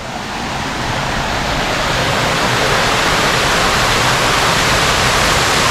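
Steady, full rush of flowing water close by, a continuous broadband roar with no voices or breaks.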